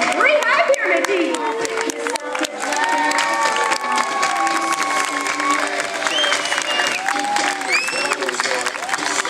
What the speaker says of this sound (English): they need to hear you cheer very loudly as they come by with the Waterboard Warriors